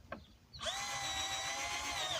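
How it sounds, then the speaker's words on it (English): A cordless drill driving screws while a backyard shooting range is being upgraded: a short faint tap, then the motor whines up and runs steadily and loudly, close by, with no talk. "so the drill is now recharged and ready to go. So let's get back on to what I was doing here. Putting these"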